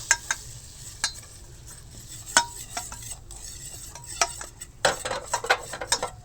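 Butter and flour frying together in a pan for a homemade pizza sauce, a soft low sizzle broken by scattered clicks and scrapes of a spoon stirring against the metal.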